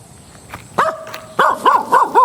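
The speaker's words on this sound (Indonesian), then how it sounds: "Tiba-tiba datang seekor anjing menggonggong mendekati Sambapariya dan adiknya." A dog barks close by in a short burst of loud, yelping barks, starting after a quiet moment and then repeating in a quick rhythmic series toward the end.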